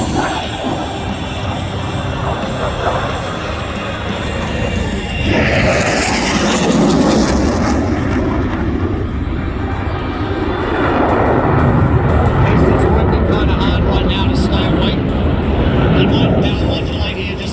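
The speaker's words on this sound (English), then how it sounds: "He was bleeding 70 knots a second as he pulled the aircraft up into the vertical." An RAAF F/A-18 Classic Hornet jet roars through a display flight at an airshow, its engine noise loud and sustained, swelling and shifting in pitch as the aircraft maneuvers, with a commentator talking over it.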